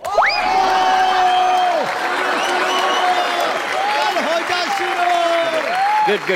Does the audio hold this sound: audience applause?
yes